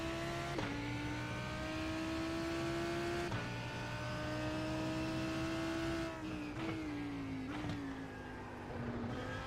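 A sim racing car at Sebring in a racing video game, its engine droning steadily with pitch stepping up and down as traction control cuts the power and holds back acceleration, continuous and close.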